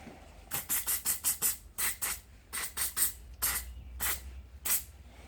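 Short bursts of brake cleaner aerosol spraying, a rapid series of sharp hissing puffs in quick clusters, close and fairly loud with brief pauses between groups.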